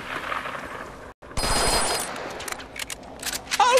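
Gunfire from the Deadpool video game on Xbox: bursts of rapid shots with ringing, metallic game effects, close and loud after a brief silent gap.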